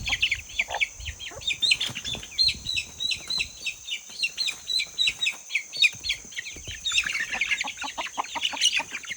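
A broody hen sharing a coop with young chicks makes a steady run of soft, repeated clucks, mixed with constant high chirping and peeping from the chicks close by.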